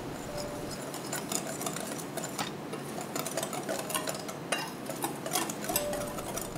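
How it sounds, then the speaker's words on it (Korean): Almond powder, sugar and cinnamon whisked together in a bowl give a rapid, continuous dry scratching and rustling that holds steady throughout at close range, with no talking. "휘퍼로 섞어주세요."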